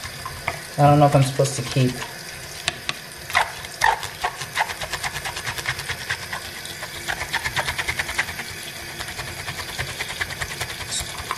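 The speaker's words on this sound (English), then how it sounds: "So now I'm going to go ahead and scrub, scrub, scrub, scrub, scrub." Makeup brushes are scrubbed under running tap water, giving close wet swishing and rapid rhythmic scrubbing over splashing water, while someone talks briefly early on.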